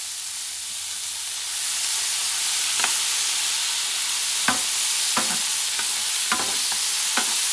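Artichoke pieces fry in a paella pan for a goat meat paella, giving a steady loud sizzle with several sharp scrapes and clacks of a stirring utensil spaced through it, no talk.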